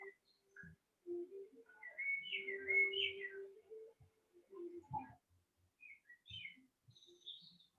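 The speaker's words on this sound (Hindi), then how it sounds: "पक्षियों की आवाजें," Bird chirps and whistled song phrases drift in and out over a quiet background, with several separate calls rising and falling across the stretch, moderately close and fairly soft.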